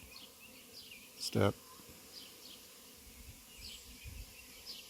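Honey bee swarm droning softly outdoors as bees leave a branch, with a faint steady buzz, one louder close pass midway and a brief spoken word.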